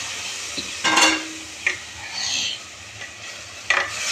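A utensil stirs through elephant foot yam in a pot in several separate scraping strokes, over a low sizzle, with no one talking.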